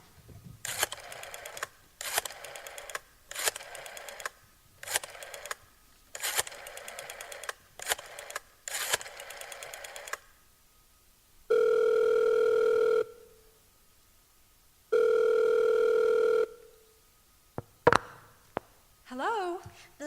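A rotary telephone is dialed with a rapid series of ratcheting clicks, then two long, loud ringing tones on the line, followed by a clunk as the receiver is picked up.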